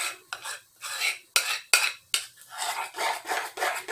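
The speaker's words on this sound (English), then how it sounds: "I just put a few tablespoons of flour into a bowl, add my mayonnaise, and then stir it up" Flour and mayonnaise are stirred in a bowl with a utensil for a Southern stir-and-drop biscuit batter, giving repeated close scraping and rasping strokes with a few sharper clicks against the bowl, and no voices.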